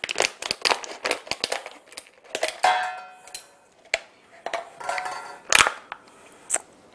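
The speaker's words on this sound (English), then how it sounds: "We're just going to grab some scissors" Scissors snip and cut into a package of freshly made homemade butter in a kitchen, giving a series of close, crisp clicks and crinkly rustles of wrapping with no talking.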